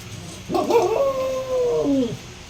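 A pet dog howls and whines back at its owner in a single drawn-out, wavering cry of about a second and a half, close by, with no talking over it.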